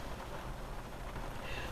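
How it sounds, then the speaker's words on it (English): Rain falls outdoors as a soft, steady, even hiss, faint and continuous, with no voices over it. "it's raining. It's raining."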